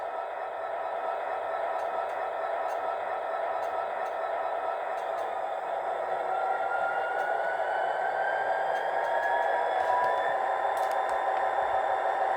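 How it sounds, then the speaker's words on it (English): A Bachmann Class 57 model locomotive fitted with a Coastal DCC sound decoder releases its brakes in a long, steady airy hiss that runs the whole time, with a faint tone slowly rising beneath it. "And that's the brake release"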